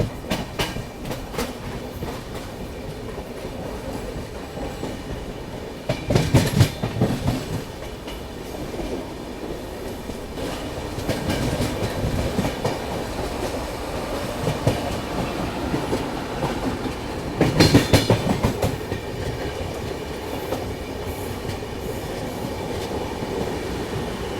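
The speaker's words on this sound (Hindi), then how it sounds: "हमारी ट्रेन अब सीधा निकल चुकी है जोलारपेट की तरफ" The Alappuzha Dhanbad Express runs steadily on its rails, heard loud and close from on board, with a continuous rumble and clickety-clack and several louder bursts of rattling along the way.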